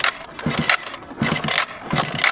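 Motorcycle being kick-started with its spark plug removed, giving three or four short bursts of mechanical clatter and kick-lever thumps spaced by brief gaps, close by, with no engine catching.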